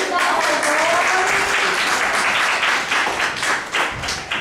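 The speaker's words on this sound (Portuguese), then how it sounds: "Então vamos dar mais uma salva de palmas." Steady applause from a small audience at a children's play about a rabbit's wedding, continuous and fairly loud, with some scattered heavier claps and faint voices mixed in.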